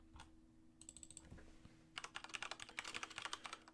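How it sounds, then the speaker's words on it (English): Typing on a computer keyboard to enter a search, with quiet, scattered keystrokes at first and then a fast, steady burst of clicking keys close by. "So we type in moving boxes."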